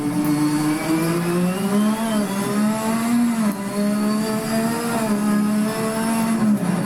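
Lotus 98T race car engine in Assetto Corsa, a loud, steady high-pitched engine tone held alone at high revs throughout, with slight pitch dips and climbs as the car shifts and accelerates.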